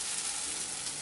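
Egg-free pancake batter sizzles steadily in a hot pan, a continuous close hiss with no voices over it.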